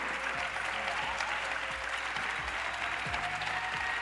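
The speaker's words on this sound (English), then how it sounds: "Come on, clap for them" A large town-hall audience applauds panelists at a discussion on building Black wealth, with continuous thick clapping and a low amplified voice underneath.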